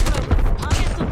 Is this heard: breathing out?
no